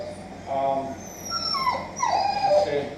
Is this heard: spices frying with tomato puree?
no